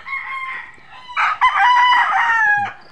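A rooster crows loudly nearby in a long, wavering call, with brief clucks around it, at a place selling chickens.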